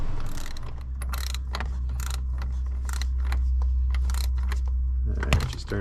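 A ratchet with a 27mm socket tightens a crankshaft bolt on a Dodge 3.6L engine, giving repeated close clicking bursts in uneven strokes over a low background hum.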